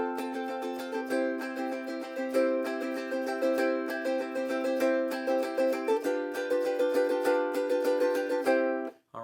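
Steady ukulele strumming in a down-down-up pattern with the pointer finger where the neck meets the body, a bright rhythmic run of chords played alone, close and even, with a brief pause near the end.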